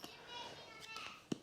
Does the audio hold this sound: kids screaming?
yes